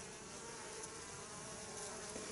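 Honeybees hum at an apiary in a continuous soft drone, their buzz steady and fairly faint throughout, with no voices.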